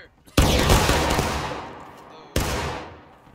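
A line of soldiers in the Civil War game War of Rights fires a musket volley: a loud, ragged crackling burst that rolls and fades, then a second smaller volley about two seconds later.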